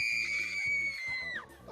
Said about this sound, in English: Just give us your best scream there.